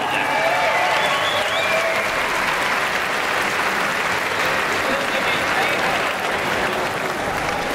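Sustained warm applause from spectators at a women's 50 m butterfly swimming competition in a 25-metre pool, a steady wash of clapping with some crowd voices and calls mixed in.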